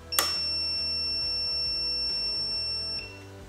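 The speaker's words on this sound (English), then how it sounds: "you're going to get an audible, you're going to get the vibration when you hit your peak, and the red LED is going to light up." An ARES sealed-head electronic torque wrench gives a single steady, high-pitched electronic beep at peak torque, lasting about three seconds, clear and close with no talking.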